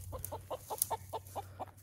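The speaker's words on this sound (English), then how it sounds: "It's the rooster." Rooster on a home farm with new raised beds, giving a steady series of about nine short, evenly spaced clucks close by over a low background hum, with no talking.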